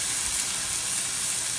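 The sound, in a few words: bacon sizzling while frying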